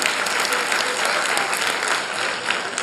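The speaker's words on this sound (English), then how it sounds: "huge round of applause for him" Audience at a school annual report function applauds a student javelin-throw winner, a continuous dense wash of clapping from a large crowd, even and sustained throughout.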